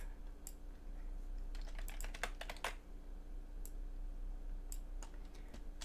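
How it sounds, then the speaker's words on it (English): Plastic keys clatter on an Amstrad CPC computer keyboard, typing in short uneven bursts of quick clicks over a steady low hum, fairly quiet and with no talk. "I'm going to type all of this in, and I'm definitely not going to use auto type"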